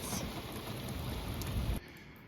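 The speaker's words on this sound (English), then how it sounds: "the rain's coming down hard right now" Heavy rain pours down onto the roof of a French chateau, a loud, dense and continuous hiss of drops that drops away abruptly near the end.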